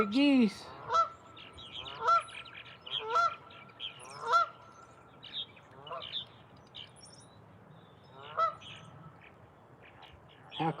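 Outdoor geese give a series of spaced, loud nasal honks, some doubled and some strung together, fairly near, with a brief voice at the start.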